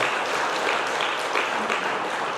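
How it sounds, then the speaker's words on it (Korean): A church congregation claps for its elders during a Sunday service, a continuous, even roll of many hands filling the sanctuary without a break. "박수 좀 쳐드려요, 장로님들한테."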